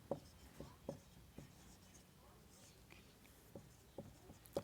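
Pen scratching on paper during a Class 10 maths lesson on factors, with brief soft strokes in a sparse irregular rhythm, close and quiet, between faint whispery murmurs.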